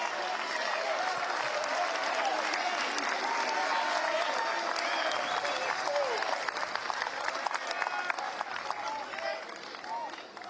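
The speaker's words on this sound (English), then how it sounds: "Crowd spurring Jake Stevenson." A college baseball crowd at an NCAA tournament regional final between Minnesota and UCLA cheers and applauds a pitcher, sustained dense clapping and crowd noise that stays loud throughout with speech mixed in.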